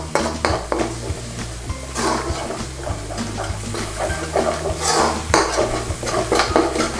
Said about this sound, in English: And then in with 2 tablespoons of tomato puree. Give it a little stir around.